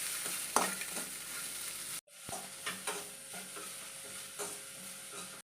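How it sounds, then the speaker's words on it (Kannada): Whole garlic bulb heating in hot oil for a village-style ridge gourd bassaru, with a steady sizzle and intermittent stirring scrapes, briefly dropping out near the middle before resuming. "ಒಂದು ಗಡ್ಡೆ ಬೆಳ್ಳುಳ್ಳಿನ ಹಾಕ್ಕೊಂಡು ಚೆನ್ನಾಗಿ ಇದನ್ನು ಬಿಸಿ ಮಾಡ್ಕೊಳ್ತೀನಿ"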